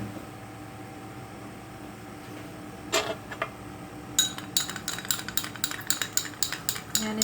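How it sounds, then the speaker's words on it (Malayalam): A spoon stirs a homemade face pack mixture with sugar in a bowl. After a quiet stretch and a couple of knocks, rapid, faint scraping clicks repeat steadily. "അരിയും വരെ നമുക്ക് മിക്സ് ചെയ്ത് എടുക്കാം"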